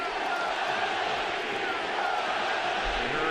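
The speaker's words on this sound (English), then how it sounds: "We heard the crowd go silent, and now getting very loud at the Coliseum." Stadium crowd at the Coliseum swelling into a loud, continuous roar, a dense wash of many voices filling the whole clip without a break.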